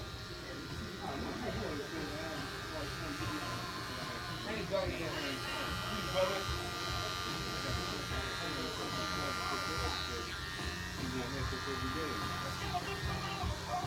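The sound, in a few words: electric clippers shaving the back of a customer's neck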